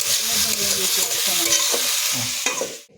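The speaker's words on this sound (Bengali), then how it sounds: "আলু ভাজা একদম রেডি, আর বেশি ভাজবো না" Steady crackling sizzle of potatoes frying in hot oil, with scraping stirs of a utensil in the pan, close up.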